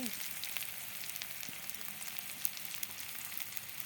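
Sliced onion and cardamom hit hot oil in a pan and keep up a steady, close, crackling sizzle with a few sharper pops.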